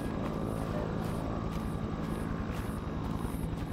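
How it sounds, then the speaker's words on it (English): Helicopter rotor in an alien horror video game, a steady chopping drone with rhythmic blade pulses and broad engine rumble, continuous and fairly loud throughout. "That helicopter must be Omega."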